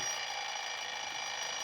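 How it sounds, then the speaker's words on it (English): An alarm clock ringing as a radio drama sound effect, a continuous bright, even ring that holds without a break. "I set my alarm for 5 the next morning."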